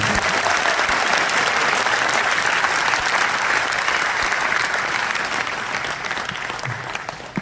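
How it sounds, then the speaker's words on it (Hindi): Large indoor audience at a corporate celebration event applauding loudly and steadily for several seconds, a dense wash of clapping that fades slightly toward the end. "एक बार जोरदार ताली आप अपने लिए बजाएं"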